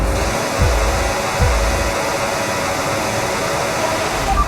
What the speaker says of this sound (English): Let's build the revs up and hold them.